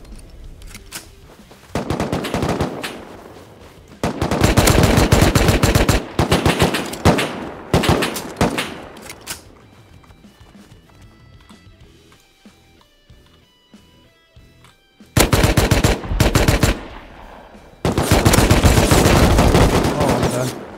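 AK rifle in the survival game Rust firing long rapid automatic bursts, loud and close, broken by quieter gaps with faint background sound before more sustained bursts resume.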